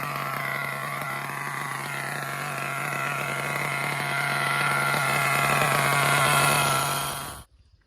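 An Ofna DM-1 RC car's small nitro engine idling with a high, buzzy, steady drone and faint rattle, held close for about seven seconds before cutting off abruptly.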